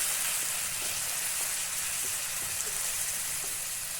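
Oil sizzles steadily in a pan where food fries with salt and turmeric, a continuous close hiss with faint stirring ticks underneath.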